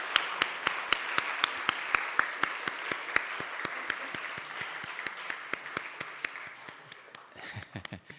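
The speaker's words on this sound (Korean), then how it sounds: "박수로 다시 한번 축하해 주시면 감사하겠습니다" Congregational applause during an Easter Sunday family service at a Korean church as flowers are presented: a soft, sustained wash of clapping with a few crisp, regularly spaced louder claps close by, fading toward the end.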